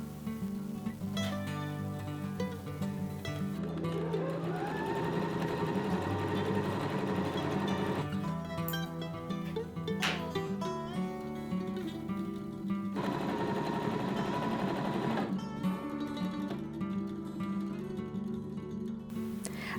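A sewing machine stitches patchwork quilt squares together in a steady, close mechanical whir, running in long bursts with short pauses and speed changes between them.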